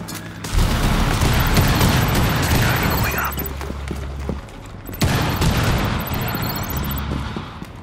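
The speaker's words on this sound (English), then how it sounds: "Detonating cluster charge." Cluster charge detonations in the Rainbow Six Extraction video game: two bursts of rapid, loud explosive pops, each a rattling volley lasting a few seconds, separated by a brief lull with a low rumble underneath.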